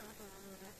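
Honeybees buzzing inside a winter hive during the second half of wintering, a dense steady hum close by with no pauses, faint throughout.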